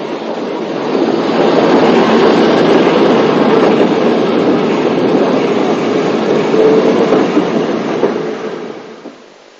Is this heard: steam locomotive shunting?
yes